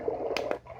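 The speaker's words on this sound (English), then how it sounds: "stream in the cave," Cave-stream setting on an Easysleep white noise machine: a steady wash of trickling, gurgling water with a couple of brighter splashy bursts, continuous and even in level throughout.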